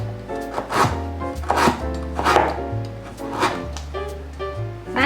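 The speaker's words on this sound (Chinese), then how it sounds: "把南姜切片" Firm galangal root is sliced with a knife on a cutting board, about five crisp, close chopping strokes at an uneven pace over a low steady hum, with no talking.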